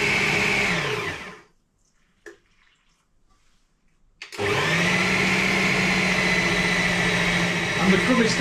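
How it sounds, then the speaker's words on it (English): A Ninja blender churns bread dough for a nutty seeded loaf as liquid is worked into the flour mixture. The loud, straining motor whir cuts out for about three seconds, then starts again and runs steadily. "I'm going to get this liquid now into my flour mixture in the blender"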